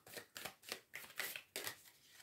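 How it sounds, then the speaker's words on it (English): Rapid riffling bursts of a deck of tarot cards being shuffled, about seven quick flutters in a steady rhythm, close and fairly quiet. "let me just give them another shuffle."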